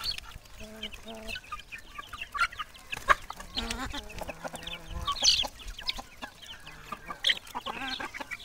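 Chickens cluck repeatedly on a poultry farm, with scattered bursts of fowl calls over a busy background; a person speaks briefly among them.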